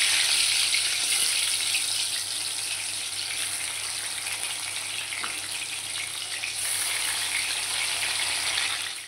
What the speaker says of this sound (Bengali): তেলটা গরম হয়ে গেছে, পনিরগুলো হালকা করে ভেজে